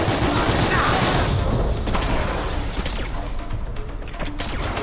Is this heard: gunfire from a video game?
yes